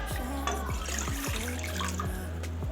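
About a litre and a half of water is poured into a cooking pan for macaroni, making a faint, continuous splashing trickle with gently shifting gurgles.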